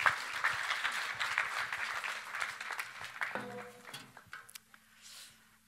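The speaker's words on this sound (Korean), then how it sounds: "박수로 환영해 주시면 감사합니다" A church congregation applauds at a Korean worship service, a dense wash of clapping that swells early, then thins and fades out, with a few scattered last claps and some murmuring toward the end.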